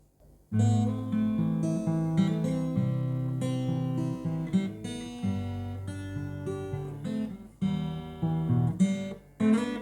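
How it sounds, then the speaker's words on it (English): A melodic guitar riff played in sustained notes with shifting chords, steady and fairly loud throughout, with no voices. "famous guitar riff. It sounds like this."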